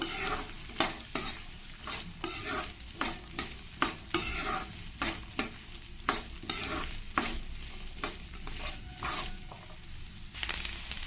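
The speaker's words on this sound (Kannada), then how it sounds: "ಇದನ್ನೆಲ್ಲ ಸ್ವಲ್ಪ ಚೆನ್ನಾಗಿ ಮಿಕ್ಸ್ ಮಾಡ್ಕೊಳ್ಳೋಣ ಎಣ್ಣೆಯಲ್ಲಿ ಇದೊಂದು ಸ್ವಲ್ಪ ಫ್ರೈ ಆಗಬೇಕು" A spoon stirs raw sweet corn frying in hot oil for corn fried rice, giving repeated scraping strokes against the pan over a soft, steady sizzle, close and moderately quiet, with no voices.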